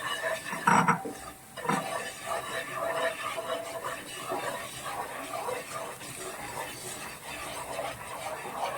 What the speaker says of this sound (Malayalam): നന്നായിട്ട് ഇതൊന്ന് ഇളക്കി യോജിപ്പിക്കണം